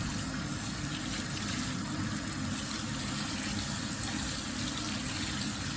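Water runs steadily from a tub tap or shower while a coffee and cocoa body scrub is rinsed off, a constant close-up rushing gush with no pauses or talk.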